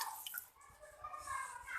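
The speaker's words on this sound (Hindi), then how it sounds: "तो अब मैं इसमें पानी डाल देती हूँ।" Water is poured into a cooking pot for dal chana pulao, about seven glasses for a kilogram of rice. Soft, quiet splashing and trickling continue throughout, with a few bright drips and gurgles.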